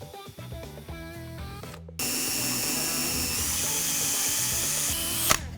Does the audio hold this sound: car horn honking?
no